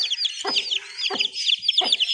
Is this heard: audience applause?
no